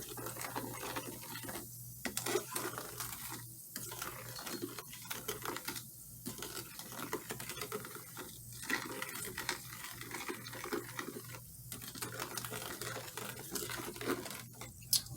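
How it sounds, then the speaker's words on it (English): Sugar stirred into Mountain Dew soda, a steady close scraping and swirling with rhythmic sweeps and brief pauses, fairly quiet, with no talking. "And I'm just going to mix until it dissolves. Make sure you mix it real well."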